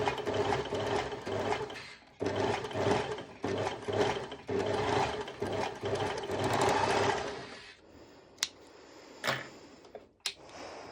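Overlocker sewing machine stitching a bikini top, running in fast buzzing bursts with short pauses for about eight seconds close by, then stopping, followed by a few soft clicks and handling knocks.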